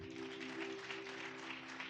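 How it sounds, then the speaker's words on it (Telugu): A crowd claps steadily and densely at a Christmas worship service in a church in Bhadrachalam, India, a continuous patter of many hands with a faint sustained tone underneath. "ఒకసారి దేవునికి అందరు గట్టిగా చప్పట్లు కొట్టండి"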